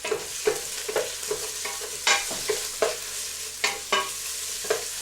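Shallots and garlic sautéing in a pan for homemade chili, a steady close sizzle broken by repeated spoon scrapes and stirs in an uneven rhythm.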